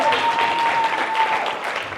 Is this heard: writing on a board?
no